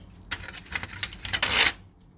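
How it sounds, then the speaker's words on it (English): A serrated knife scoring a chicken chub ham, making short rasping strokes that build to a longer grinding pull before stopping, close up and fairly quiet. "I'm not even sure why am I rubbing the knife so hard, rather pulling it so hard."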